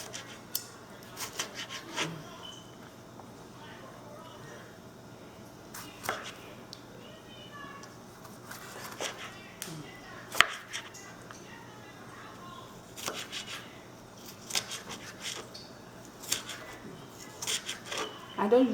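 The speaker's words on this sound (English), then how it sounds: "So chopping the onions." Onions being chopped for a vegetable stew, producing scattered, fairly quiet knife strikes on a board at an irregular pace beneath low kitchen background noise.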